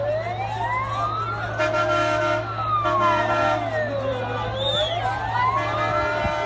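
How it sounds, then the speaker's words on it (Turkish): An ambulance siren sweeps up and down in a slow wail as it approaches a fire in Dilovası, loud and close over a steady engine hum and a second siren tone, with people talking faintly. "Ambulans, ambulans burada da şey geliyor."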